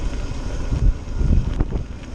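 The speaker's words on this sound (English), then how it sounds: "It's a bit windy." Low, gusty wind buffeting the microphone, rumbling unevenly throughout with a few louder thumps.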